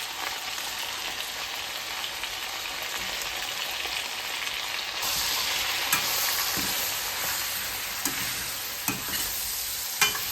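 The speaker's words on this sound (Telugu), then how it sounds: "సో నేను ఇందులోని మనం మిక్సీ చేసుకున్న పేస్ట్ వేస్తున్నాను ఇప్పుడు" Ground masala paste sizzling and frying with chicken in a pan for Mangalore ghee roast, a steady hiss that swells louder midway, with occasional sharp clicks of a spoon stirring against the pan.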